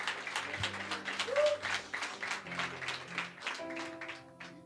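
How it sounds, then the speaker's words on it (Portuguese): Church congregation clapping in rapid bursts, the applause mixed with musical tones and a sustained organ-like hum throughout. "Pode aplaudir o Senhor."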